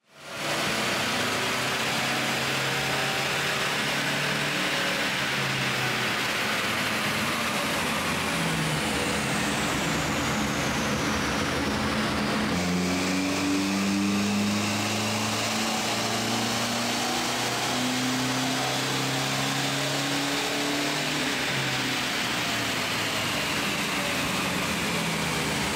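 A tuned Toyota Fortuner with a VNT diesel engine, stage 2+ upgrade and 150,000 km on it, running hard on a dyno: a loud, sustained roar with rising whine and drone, steady throughout and alone.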